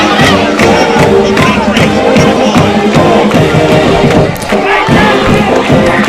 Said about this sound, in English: I'm gonna let him hear the crowd yelling.